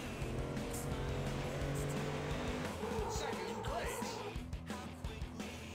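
A Ford Mustang race car in a video game roars at full throttle, engine droning loudly throughout with tire squeal and shifting pitch; a voice speaks briefly over it.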